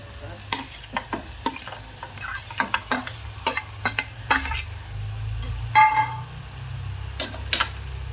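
Chilli powder fries in oil while a spoon stirs it, producing repeated sharp scraping strokes against the pan in an irregular rhythm over a soft, constant sizzle, close up.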